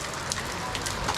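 Rain falls steadily on surfaces in the rainy season, a dense, even patter with scattered sharper drops, close and continuous with no voices.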